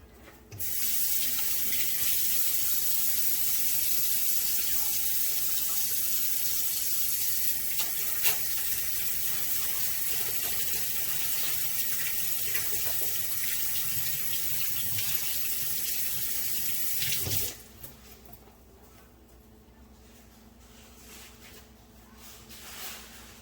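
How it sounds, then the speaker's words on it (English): A kitchen sink tap runs hard while hands are washed, a loud steady rush of water lasting about seventeen seconds before shutting off abruptly and leaving a quiet room. "Let me wash my hands."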